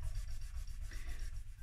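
Sanding of the nut on a Fender Player Telecaster during a setup, a soft rhythmic rubbing scrape repeated in quick strokes, close and fairly quiet.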